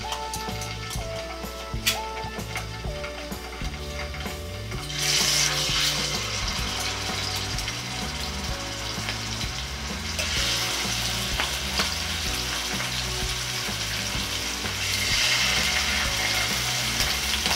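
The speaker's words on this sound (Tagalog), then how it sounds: "Kapag mainit na po ay pwede na nating iprito itong ating tuna." Tuna fries in hot oil for a kalderetang tuna dish. The sizzle crackles steadily beneath background music and swells louder partway through, with no talking.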